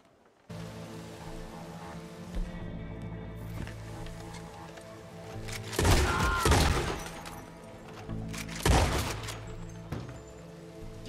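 A few loud gunshot bursts in Red Dead Redemption 2, sharp cracks at two separate moments over a steady tonal music-like background, fairly close and punchy.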